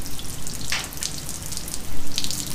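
Water from a hose flushes a Mercury 250 Pro XS outboard motor on a boat at Percy Priest Lake, Tennessee, giving a steady broadband hiss and splash with a few brighter gushing bursts, no talking.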